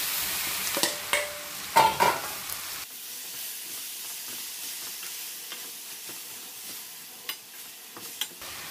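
Boiled raw jackfruit shreds stirred in a frying pan, with a few louder scrapes and clatters of the spoon early on, then a steady soft sizzle and occasional light clinks.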